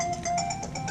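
A mobile phone ringtone plays a repeating electronic melody of short, even-paced tonal pulses, fairly loud and steady against a quiet room in a house.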